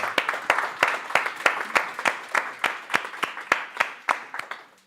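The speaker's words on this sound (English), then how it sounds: "Clap it up, clap it" An audience at a Talks at Google event claps in a steady, unified rhythm, sharp regular hand claps repeating about three times per second, close and clear with no talking.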